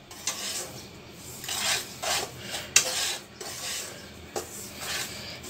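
A spoon stirs and rubs through semolina mixed with powdered milk in a pan, giving repeated rasping, scraping strokes in an uneven rhythm, close and fairly loud, with no voices.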